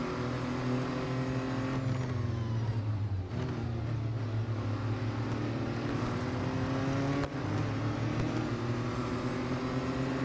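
Audi Quattro B2 racing in Real Racing 3, its engine droning loud and steady for the whole stretch, pitch dipping and rising again through gear changes, with no talk over it.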